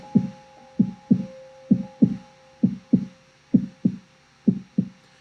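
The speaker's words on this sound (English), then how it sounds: "you heard the sound of the heartbeat. It goes like this." Steady heartbeat sound effect for Poe's The Tell-Tale Heart: paired lub-dub thumps repeating at an even pace about once a second, over a faint constant hum, with no voices.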